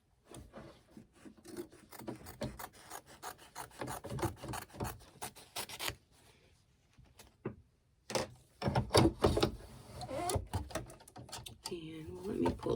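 Fabric pieces for a table runner are trimmed with a cutter in short rasping strokes, a rapid run of close scraping cuts broken by a brief pause, then more strokes.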